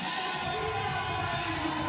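Dense, steady roar of a large Hungarian stadium crowd cheering at a modern pentathlon event, with whoops and yells blending into a continuous wash for two seconds.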